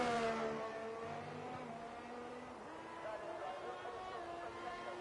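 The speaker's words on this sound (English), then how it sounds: "Makes the engine scream in 7th gear there." Race car engine in a sim racing game revving high in seventh gear at Imola, a steady whine with faint shifts in pitch; a commentator talks over it throughout.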